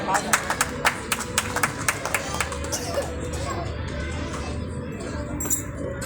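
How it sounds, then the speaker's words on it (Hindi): Scattered audience clapping welcomes a guest at a Saraswati Puja celebration. Sharp, uneven claps sound through the first half over a murmuring crowd, then fade as the chatter goes on. "जोरदार तालियों से स्वागत हो"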